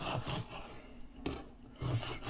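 A knife saws through a bony ladyfish on a cutting board, making close, gritty rasping strokes with short crunching scrapes in a few uneven bursts.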